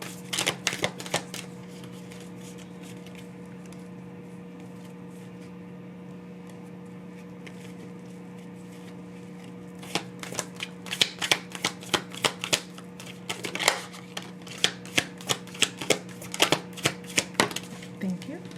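Tarot cards shuffled by hand in bursts of crisp riffling and slapping, close and fairly loud, with a steady low hum underneath and quiet stretches between.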